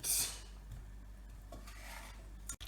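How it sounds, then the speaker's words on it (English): Caramel for millionaire's shortbread stirred in a pan over low heat, with soft, faint scraping and rubbing strokes and a quiet background hiss, alone without talk. "And then we can just start mixing over the low heat."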